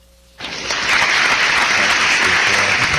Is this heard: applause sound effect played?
yes